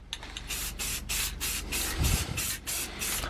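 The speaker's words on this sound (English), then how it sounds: "Just freaking spray the thing." Aerosol spray paint being applied to aftermarket performance parts for a Subaru WRX, heard as a series of repeated close hissing bursts, each about half a second long, with no talk over them.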